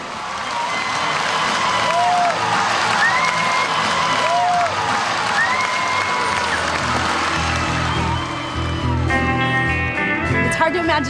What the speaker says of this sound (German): Man hört die Zuschauer, wie sie klatschen und tanzen.